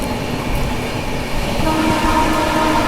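A train overtaking a DMU train on an Indian railway line between Aligarh and Kanpur, a loud, steady rumble of rolling wagons heard up close with no other sounds.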